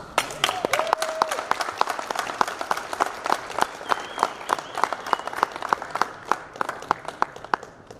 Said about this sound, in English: Let's give them one more round of applause for everybody.